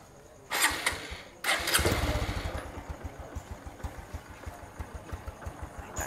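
A Honda Wave motorcycle engine is kicked over twice in quick succession, then settles into a close, steady idle with a regular thumping exhaust pulse.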